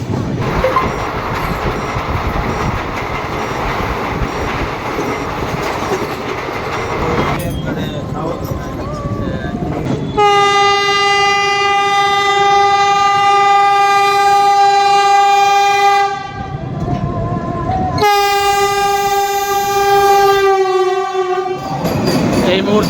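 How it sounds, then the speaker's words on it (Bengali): Dhauli Express thunders past alongside, a loud rushing rumble of wheels and carriages joined by long sustained horn blasts that break off briefly and resume, close and dominant. "এইটা ধৌলি এক্সপ্রেস যাচ্ছে আমাদের পাশ দিয়ে ধৌলি এক্সপ্রেস"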